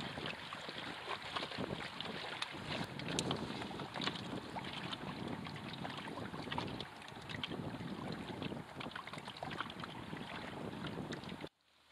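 A small sailboat, short an oar, moving through fluky winds between the Thousand Islands: steady broadband wind rush and water wash against the hull, close and continuous with no talk, cutting off abruptly at the end.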